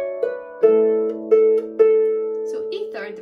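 A Manx harp plays the A part of Hop tu Naa, with an A fifth replacing the E third on the way down. Several sustained plucked notes ring out close and clear, and a brief stir of other sound closes the passage.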